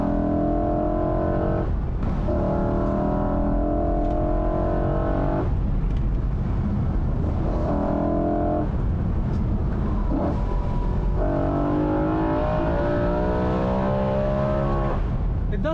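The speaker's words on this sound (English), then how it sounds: "it allows you to hear the individual throttle bodies better than you can in the stock configuration." A 2008 BMW M3 E93 revs hard on a mountain road, its engine rising and falling through repeated climbing pulls with brief gaps at shifts, loud and close throughout.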